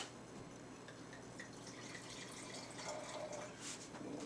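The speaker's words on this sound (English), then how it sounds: "Rinse." Water splashes and trickles steadily as a wine glass is rinsed at a sink during a blind Chardonnay tasting, a soft, continuous wash with a few brighter splashes toward the end.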